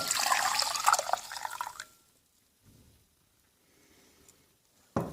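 Milk pours over poppy seeds in a kitchen for a traditional Ukrainian Makovei dish, a close liquid splash and trickle that lasts about two seconds before fading into quiet, with a faint clink at the end.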